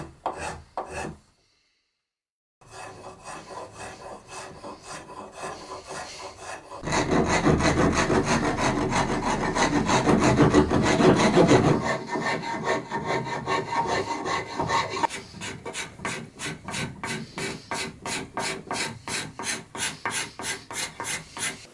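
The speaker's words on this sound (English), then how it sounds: "and then smoothing with card scraper" Card scraper and file working a wooden table leg, producing steady rasping strokes, first in a continuous dense stretch and then in quicker rhythmic back-and-forth passes, close and fairly loud with no talking.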